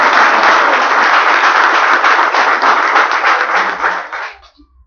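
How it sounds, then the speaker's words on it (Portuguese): A church congregation gives loud, steady applause for pastor Carlos at a book launch, dense clapping that holds strong and then stops abruptly near the end. "Vamos aplaudir o pastor Carlos no mesmo nome de Deus?"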